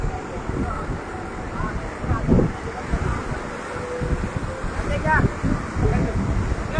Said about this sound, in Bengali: বাতাস বাড়তেছে, ঢেউ বাড়তেছে